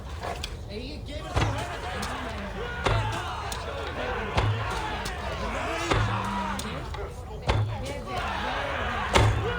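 Arrows shot at targets in an archery contest in Assassin's Creed Valhalla, with sharp thuds striking roughly every one and a half seconds over a busy crowd and speech.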